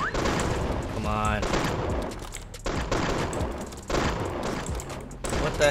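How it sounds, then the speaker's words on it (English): Dense gunfire from many players across a Roblox Mad City server, overlapping shots and bursts rattling almost continuously for several seconds, loud and close with brief lulls, no talking over it. "There's literally just shooting everywhere."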